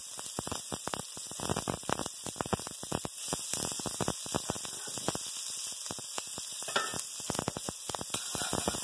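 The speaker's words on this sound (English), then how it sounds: "We got here a Dutch oven. We have it lit skillet hot. Add a little oil" Oil heating in a hot Dutch oven, a constant close-up sizzle and crackle with a steady background hum, thick with dense little pops and spits and no speech.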